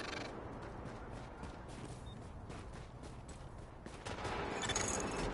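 Sustained gunfire from The Division video game, a steady dense rattle of shots with mechanical clatter that grows louder near the end, continuous throughout with no talking.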